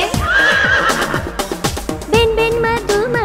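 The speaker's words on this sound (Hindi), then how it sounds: "हिन हिन करता घोड़ा भागे" A horse whinnying loudly and close, its wavering neigh rising over a trotting clip-clop rhythm, backed by bright music in a Hindi children's rhyme.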